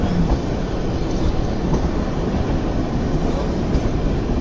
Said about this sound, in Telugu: ట్రైన్ అసలు అదిరిపోయే టర్నింగ్ అవుతుంది ఇక్కడ.